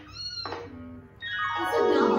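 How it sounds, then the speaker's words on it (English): A cat meows in a pet shop scene from a kindergarten English lesson, sounding two clear, close meows, the second longer and louder. "It's a cute cat."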